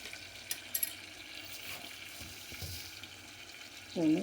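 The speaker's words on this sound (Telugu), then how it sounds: "టమాటాలు సగం వేగినాయి చూడండి, సగం వేగాలి." Tomato pieces sizzle in a hot pan for a tangy tomato chutney, a steady, fairly soft frying hiss with a few brief clatters and a louder crackle near the end.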